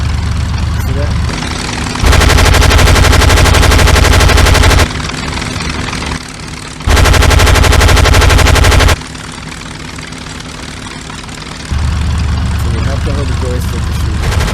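Bursts of rapid machine gun fire from a World War II gunship in the Gunship Sequel WW2 flight game ring out in two long stretches over a constant heavy engine drone, with someone talking between them.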